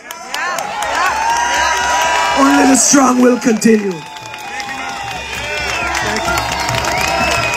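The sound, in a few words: audience applause and cheering at a rally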